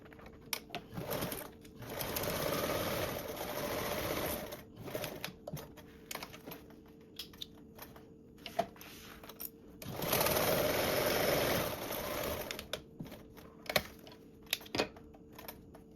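A sewing machine bastes fabric pieces together in runs of steady stitching, broken by quieter stretches full of small clicks and handling noises, all close and without talking.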